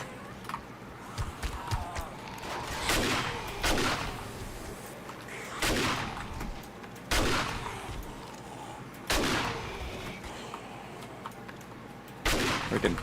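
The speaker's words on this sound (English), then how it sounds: "Use my shotgun." Shotgun blasts in the survival video game 7 Days to Die, aimed at feral zombies pushing through spikes; roughly six heavy booming shots spaced a second or two apart over a constant busy background of game noise.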